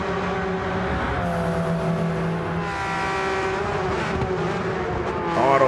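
A race car in a racing video game brakes hard into turn one at Fuji, its engine note dropping in loud, steady tones as the revs fall, with a brief tire squeal and no talk over it.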